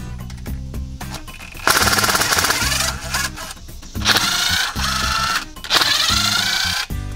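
A 5/16-inch 12-point socket on a power driver breaks loose the bolts on a Dana 44 rear differential cover, giving loud, close bursts of rapid hammering rattle separated by short pauses.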